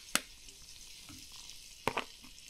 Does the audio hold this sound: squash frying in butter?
yes